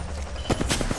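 Gunfire in the video game Apex Legends, a quick burst of several sharp shots in the second half after a quieter stretch, loud and close.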